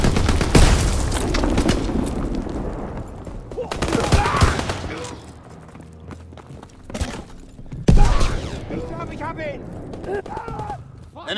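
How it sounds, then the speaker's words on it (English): Bomb explosions and bursts of gunfire in the World War II shooter Call of Duty: WWII crack and thump loudly in rapid volleys, with heavy booms, a brief lull, then another sharp blast, while shouted voices come through among the combat. "Enemy bomb incoming!"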